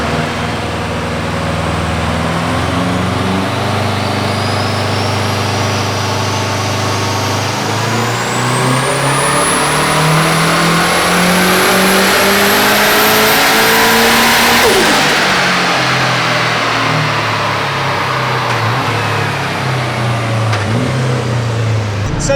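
A car engine with a new turbo setup revs hard on a dyno, a loud close roar climbing steadily in pitch through a long pull for about fifteen seconds, then dropping off and settling back down.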